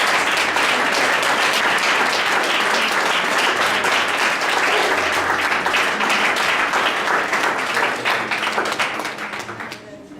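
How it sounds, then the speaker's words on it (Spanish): A church congregation breaks into sustained, dense applause, many hands clapping together loudly for several seconds before the sound thins and fades toward the end. "Les dan una ofrenda de palmas a Cristo Jesús."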